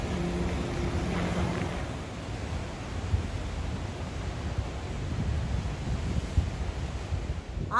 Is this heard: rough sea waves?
yes